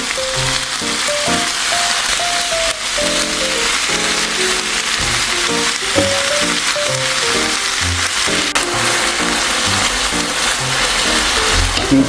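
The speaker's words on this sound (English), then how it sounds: "Once the veggies start to sweat, go ahead and add in your beef." Beef and sweating vegetables sizzling in a pan for pilaf, a loud continuous close frying hiss with stirring scrapes and tapping underneath, no voices.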